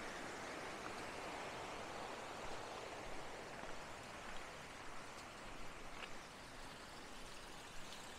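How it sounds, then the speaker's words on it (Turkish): A mountain stream flowing down from the hills in a forest near Düzce, a faint, steady, even rush of water heard from a distance with no voices. "şöyle dağdan inen bir su"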